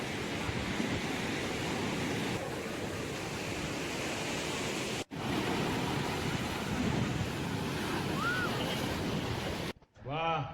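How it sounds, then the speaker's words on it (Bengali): Sea waves at Digha beach in West Bengal, heard as a loud, steady broadband roar of surf with wind, briefly cutting out twice. "ঢেউটা তোমরা দেখতেই পাচ্ছো অনেকটাই বেড়ে গেছে"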